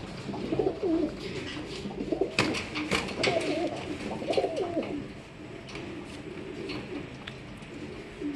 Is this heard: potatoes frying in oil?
no